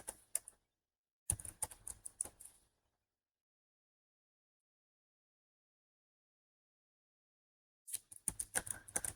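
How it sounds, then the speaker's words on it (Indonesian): Quick bursts of keystrokes on a computer keyboard while an IP address is entered, two short clusters of clicking separated by a long silent pause, close and fairly quiet. "Kita ketikkan alamat IP dari web server."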